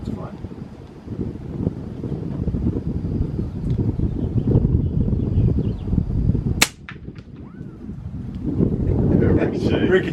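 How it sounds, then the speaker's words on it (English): Strong wind buffets the microphone at an outdoor shooting range, a loud, rough low rumble that gusts throughout, broken by a single sharp gunshot from a suppressed .22 rifle, with someone talking at times. "See, now the wind's blowing right at us. Hard."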